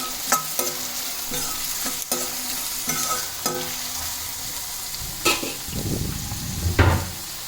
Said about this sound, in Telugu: ఉల్లిపాయ ముక్కలు, పచ్చిమిర్చి ముక్కలు వేయాలి. అవి 1 నిమిషం అలా గరిటెతో తిప్పి